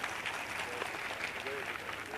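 Steady, dense clapping from a large crowd at a Bageshwar Dham gathering in Gujarat, offered in thanks to the police administration and holding an even level throughout.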